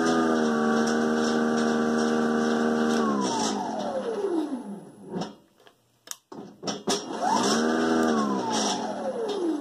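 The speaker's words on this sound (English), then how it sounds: "So let's fire up the auger" A lithium-powered two-stage snow blower's auger whirs up to a steady electric whine, winds down into a few clicks and near-silence, then spins back up to full speed. No one speaks.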